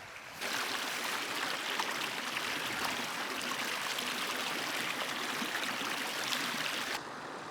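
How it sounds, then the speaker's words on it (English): A small brook runs beside a campsite on Saddleworth Moor in the Peak District, a steady, close babbling flow of water that fills the whole stretch without voices or breaks. "Lovely spot by a little brook."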